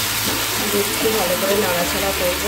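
Water poured into a hot pan of sauce hisses and sizzles steadily and loudly, with a voice speaking over it.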